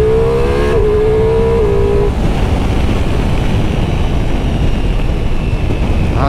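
Ducati Multistrada V4 motorcycle engine revving loudly up close, a rising engine note that drops after a shift and then settles into a dense, steady roar with wind noise, no talk.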